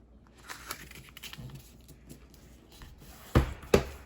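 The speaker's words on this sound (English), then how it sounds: "Then I'm just going to fold it down." Square origami paper is folded and creased by hand, giving soft, scattered rustles and crinkles followed by two sharper paper snaps close by.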